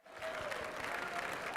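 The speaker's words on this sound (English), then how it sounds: "Give a big round of applause." Audience applause at a charity fundraising luncheon, a dense, steady clatter of many hands clapping that swells quickly and holds loud throughout with crowd noise mixed in.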